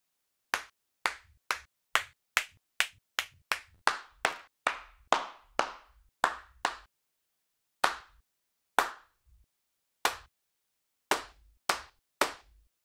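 Sampled hand claps from the AbletonOp Real Clap instrument, played as a run of crisp, dry single claps in quick succession that then space out into slower, irregular hits with short silences between them.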